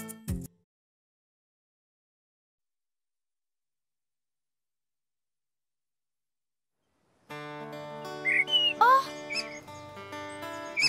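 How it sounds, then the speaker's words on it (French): In an animated children's cartoon, a small bird that is hungry and cold in the snow gives a few quick, high chirps. They come after a long silence and sit over soft sustained musical tones. "le petit oiseau dehors, il a faim et il a froid avec ses pattes dans la neige."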